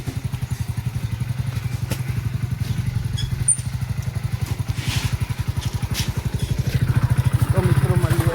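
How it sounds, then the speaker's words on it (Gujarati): A motorcycle engine idles after starting, a steady close thumping pulse throughout with a slight rise toward the end. "બાઇક ચાલુ થઈ ગયું આપણા માટે."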